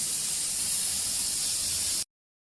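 A pressure cooker steaming with toor and moong dal, turmeric, cumin and water inside gives a loud, steady, airy hiss for about two seconds, then cuts off abruptly to silence.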